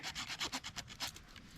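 Rhythmic wooden rubbing and rasping as a bow drill spindle drills through a limb socket in wet woods, a quick run of back-and-forth strokes that fades toward the end, close and fairly quiet.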